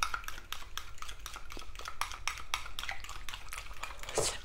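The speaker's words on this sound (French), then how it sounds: "je mélange mes œufs" Egg yolks are whisked by hand in a bowl for Breton biscuits, a quick regular series of light clinks and taps against the bowl, soft and close, ending with a brighter scrape.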